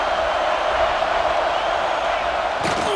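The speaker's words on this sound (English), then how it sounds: "This crowd is trying to inspire this defense to make a big red zone stop." Stadium crowd roar in the College Football 26 video game, a steady loud wash of fan noise filling the whole stretch, with a sharper burst of cheering near the end.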